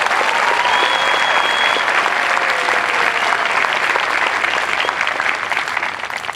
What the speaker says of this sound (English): So again, another round of applause for all of you